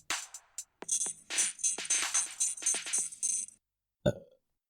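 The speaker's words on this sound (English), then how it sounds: "Clean belch for a return to the podcast." A single close belch rumbles for a few seconds with a crisp, gurgling texture, then a brief quiet and a short final sound; no talking.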